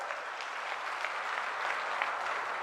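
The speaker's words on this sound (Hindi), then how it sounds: "जोरदार तालियों के साथ भाइयों" A large crowd at a political rally in Nadbai claps steadily and loudly, a dense continuous wash of applause with no voices standing out.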